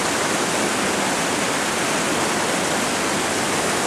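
Rushing water pours down a waterfall at a natural slide and plunge spot, a loud, dense, unbroken roar that fills the whole moment without any voices.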